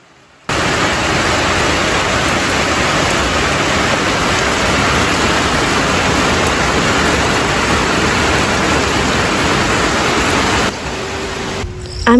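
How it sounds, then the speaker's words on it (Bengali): Steady, dense rain pours onto a raised village shelter in Bangladesh, a loud continuous hiss heard alone that drops slightly near the end. "মাচার মাঝখানের দরজাটা খোলা রেখে বৃষ্টির শব্দ শুনি আর হাত দিয়ে বৃষ্টির প্রতিটা ফোঁটা স্পর্শ করি"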